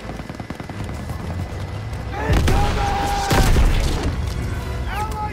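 Call of Duty: WWII battle with a Pak 38 anti-tank gun: heavy booming blasts and bursts of gunfire, loud and close, with shouted voices over the din.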